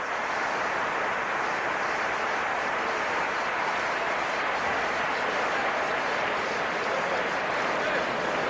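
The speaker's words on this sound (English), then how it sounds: "He's now sitting up and get a well-deserved applause from the crowd here." Crowd at a 1993 Michigan at Iowa college football game applauding injured Michigan player Voskuhl as he sits up, a steady broad wash of clapping and stadium noise lasting throughout.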